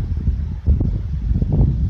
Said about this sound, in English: There's some wind. It comes in with gusts now and then.